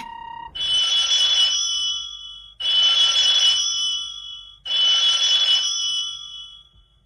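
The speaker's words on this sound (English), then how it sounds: "Come on, pick up the phone." A phone rings unanswered, with three long, loud trilling rings evenly spaced and short silences between them. A brief tone comes just before the first ring.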